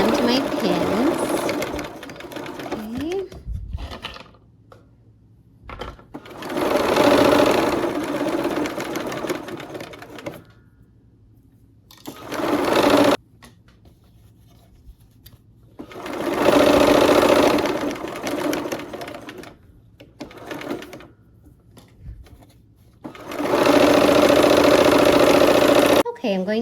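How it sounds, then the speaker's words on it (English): Sewing machine joining rows of a Christmas quilt block, several loud, close bursts of rapid stitching that start and stop with quiet gaps between them, and a voice talking in some of the pauses. "here we are back at the machine, and it's time to sew the rows together"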